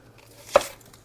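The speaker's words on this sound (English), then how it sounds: "Want 1 cup of finely chopped onion." A knife chops a yellow onion on a kitchen board in a single sharp, close chop that stands out against quiet room tone.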